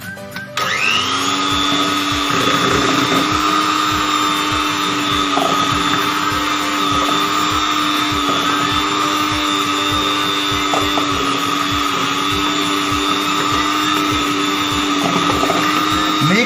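An electric mixer creams powdered sugar and butter for a chocolate cake, whirring at a steady high pitch for over fifteen seconds with regular knocking of the beaters against the bowl.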